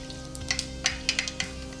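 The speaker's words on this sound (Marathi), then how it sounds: "त्यामध्ये आधी मोहरी टाकाय टाकायची मोहरी झाली की जिरी टाकते" Mustard seeds and cumin sizzle softly in hot oil, a quiet steady frying hiss with a few small pops and crackles, heard alone up close.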